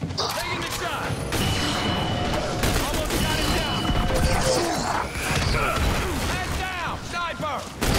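Gunfire rattles through a firefight in The Bureau: XCOM Declassified, with dense rapid shots, crashes and impacts mixed with shouted squad chatter and voices talking over the continuous combat noise.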